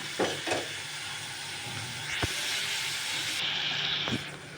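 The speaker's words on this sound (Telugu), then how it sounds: "కొద్దిసేపు నూనెలో వేసుకోవాలండి." Eggplant and other dalcha ingredients frying in oil, a soft steady sizzle with occasional light clinks of stirring, fairly faint and close.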